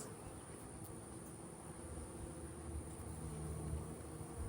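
Honeybees buzz in an opened hive during a split into three colonies, a faint, steady drone that holds evenly throughout with no voices.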